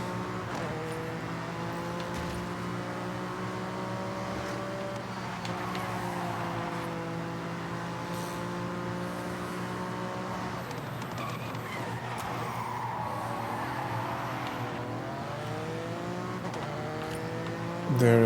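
A Schuppan 962 CR race car engine in Forza Horizon 6 drones loudly and continuously, its pitch rising and falling through gear changes, with brief tire squeal and a sharp rise at the very end.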